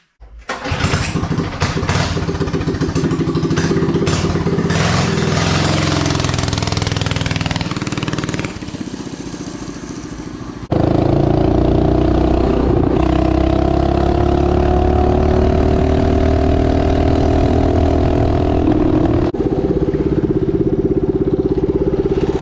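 A minibike's small engine, fitted with a zip-tie governor trick, sputters and revs unevenly at first, then drops to a quieter idle before roaring up loudly into a steady, close running drone with rising and falling pitch as it rides off.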